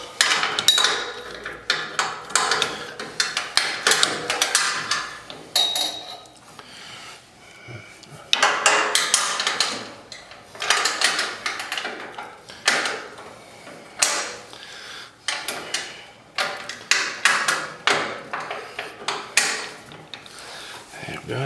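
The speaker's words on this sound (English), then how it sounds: "Let's get a wrench back here." A wrench tightening a regulator fitting on a tri-fuel generator conversion, heard as repeated close metallic clicks, ratcheting and clanks in uneven bursts with brief pauses between them, fairly loud throughout.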